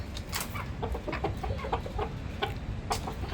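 Country chickens clucking close by on a farm, with several short, overlapping clucks and squawks over a steady low background rumble, no talking.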